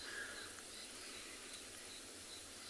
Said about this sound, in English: enjoy the sounds of the night, because there's quite a few insects and frogs calling as well